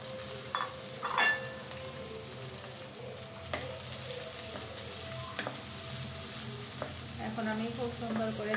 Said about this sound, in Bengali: এখন আমি খুব সুন্দর করে চিংড়ি মাছটাকে ফ্রাই করে নেব